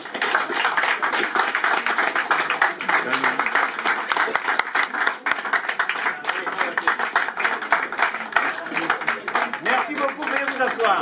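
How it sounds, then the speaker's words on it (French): A live audience applauds steadily to welcome Michel Mbungu onstage at a foundation event, dense clapping sustained and loud for the whole stretch with voices mixed in. "sous vos applaudissements, voici pour vous Michel"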